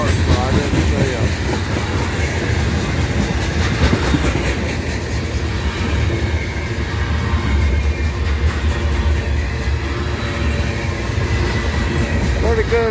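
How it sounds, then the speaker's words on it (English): A freight train passes close by in Abbeville, its wheels clattering steadily on the rails in a loud, continuous rumble with occasional metallic squeals, and a voice is faintly heard beneath it. "Pretty good sized little train here."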